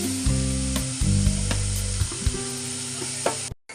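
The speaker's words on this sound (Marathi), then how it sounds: "आपल्याला गाजर त्याच्यामध्ये टाकायचे तुपामध्ये" Carrots sizzling in hot ghee while being stirred in a pan, a loud continuous frying crackle with scraping stirs and a low hum underneath, close by, then cutting off abruptly at the end.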